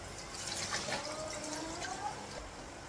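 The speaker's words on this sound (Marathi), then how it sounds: "आता छान क्लीन करून घेते, धुवून घेते." Water splashing and trickling as brass deity idols are washed and rinsed after a milk bath during Navratri rites, a soft continuous watery wash heard close up.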